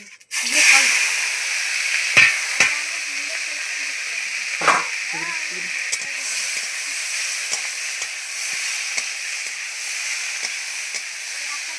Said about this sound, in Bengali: কড়াইতে তেল দিয়ে চিংড়ি মাছগুলো ভেজে নেবো